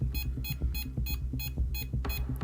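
Electronic beeping from inside a box: a rapid, evenly spaced series of about eight short, bright tonal beeps over a low hum, close and fairly loud.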